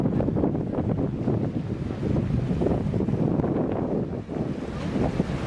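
Wind buffeting a microphone aboard a boat on an anchor cruise off Tobermory, a continuous loud rumbling roar with gusty swells and possible water wash beneath.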